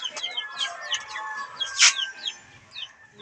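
A mother hen and her young chicks in a backyard coop, the hen giving short clucks while the chicks keep up a run of high, rising peeps, close by with a brief louder squawk midway.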